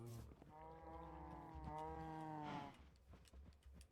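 A cow in the blocky sandbox game Minecraft lets out one long, drawn-out harmonic moo, close and clear over quiet background, followed by faint clicks.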